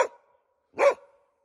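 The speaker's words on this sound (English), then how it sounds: "He doesn't seem like a very happy dog." A dog shut in a live cage trap lets out two short, sharp barks, the second louder, with silence between them.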